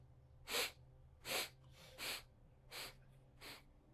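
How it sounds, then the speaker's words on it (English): Short nasal sniffs in a segmented breathing exercise, about five evenly spaced breathy inhales through the nose, close and quiet with no talking. "So what that means is in 8 little sniffs,"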